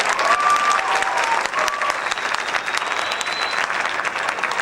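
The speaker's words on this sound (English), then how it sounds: "Please give them another round of applause for all of their work and effort." An audience applauds band students after a high school winter band concert, steady dense clapping that holds for the whole stretch with a faint tone or two drifting through.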